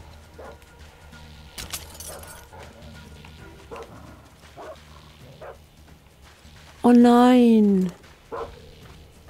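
Dogs in the video game Metro Exodus, heard as one loud, drawn-out yelp-like cry lasting about a second near the end, amid quieter game noise and a voice.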